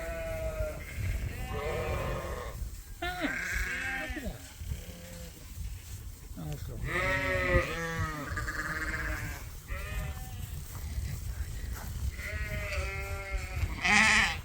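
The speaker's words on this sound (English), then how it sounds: "all the ewes and all the ewe lambs are deciding to go out at the same time" A flock of ewes and ewe lambs moves out together, bleating repeatedly and loudly in overlapping calls, with a person talking among them.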